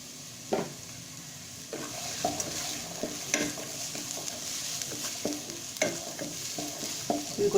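Carrots and beans sautéing in a pan with onion for millet noodles, a steady sizzle broken by repeated scraping stirs of a spoon, close and clear, no talking.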